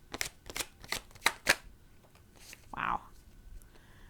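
Tarot cards are shuffled in quick riffling bursts, roughly five sharp snaps in the first second and a half, then a softer sliding shuffle, close and dry with no talk over it.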